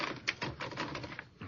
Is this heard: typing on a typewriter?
yes